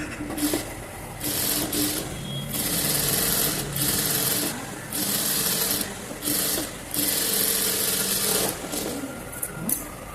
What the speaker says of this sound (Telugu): ఇంకో స్టిచ్ చేసుకుంటాం.